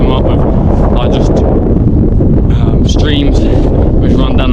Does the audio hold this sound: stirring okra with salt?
no